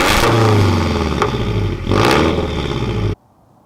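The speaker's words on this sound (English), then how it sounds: "the prized Tomei ADR, full titanium, literally the best sounding exhaust you can buy for any flat motor" A Scion FR-S flat-four engine with a full titanium Tomei ADR exhaust revs hard and loud, dipping briefly midway before surging again, then cuts off abruptly into near silence.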